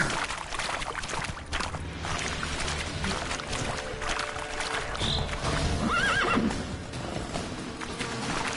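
The horse Roach in The Witcher 3 whinnies over steady clip-clop hoofbeats, with game ambience and background noise throughout and the neigh rising briefly near the end.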